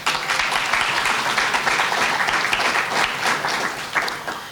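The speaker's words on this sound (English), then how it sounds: "Will you please join me in giving a round of appreciation and applause" Audience applause at a public library announcement event, a full, continuous round of clapping that stays loud and steady before tapering slightly at the end.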